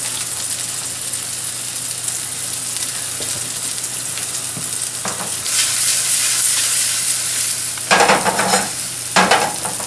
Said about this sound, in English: notice I sear the seasoned side down